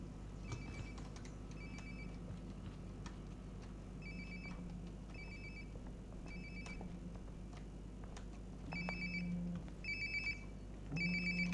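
A telephone ringing in the video game Life Is Strange Before the Storm, repeated electronic ring bursts at a steady pace that grow louder toward the end, over quiet room ambience.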